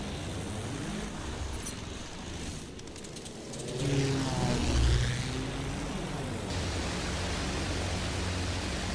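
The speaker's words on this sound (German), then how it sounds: "Feindliches Flugzeug gesichtet!" A fighter plane engine in the video game Battlefield 1 roars steadily as a dense, broadband drone, swelling louder for a moment midway before settling back to a constant rush.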